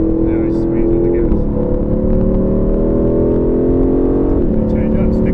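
An Aston Martin V8 Vantage on the Silverstone circuit accelerates hard, its engine note climbing steadily with two brief dips at gear changes, loud and continuous throughout.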